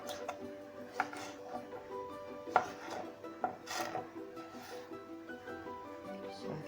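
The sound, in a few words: cutting vegetables into big chunks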